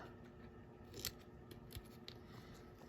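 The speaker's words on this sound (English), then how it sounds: "I'll take my scissors and I'll cut a little piece of a straight edge" Quiet, close snips of scissors cutting paper, a few crisp irregular cuts over a faint low background hum, with no talking.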